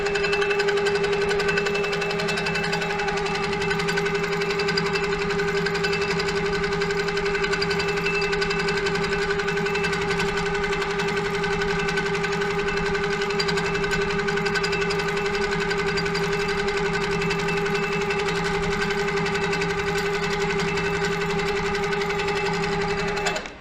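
A Handi Quilter Avante longarm quilting machine stitches continuously with a steady, even mechanical hum and rapid needle rhythm, close and loud throughout without pause.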